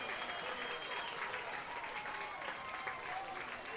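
A high school football crowd cheers and applauds steadily late in the fourth quarter, a dense wash of clapping and shouting heard from a distance.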